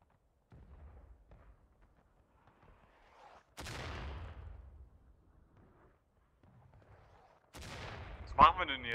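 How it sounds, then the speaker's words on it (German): Muskets crack in the American Civil War battle game War of Rights during a skirmish at Bolivar Heights. Two sharp, fairly distant shots ring out several seconds apart amid quiet, with faint speech nearby. "Ich höre die Schüsse jetzt schon."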